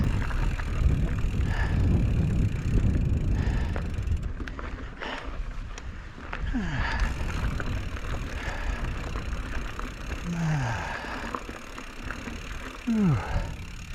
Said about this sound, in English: It's cold wind.